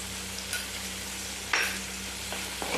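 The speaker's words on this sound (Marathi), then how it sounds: "छानपैकी परतून घ्यायचं आहे" Green chilli thecha frying with turmeric in a pan, a steady close sizzle with a few brief scraping stirs, no voices.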